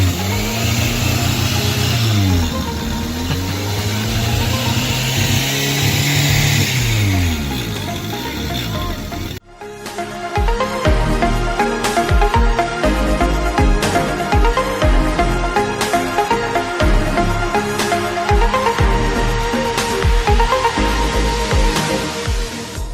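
A 1988 Toyota AE82 Corolla engine is revved up and down in rising and falling sweeps for several seconds, close and loud, before giving way to a dense, busy mix of other sound.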